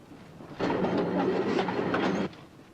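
A train rumbles past at close range, a broad clattering roar that swells suddenly and cuts off after about two seconds.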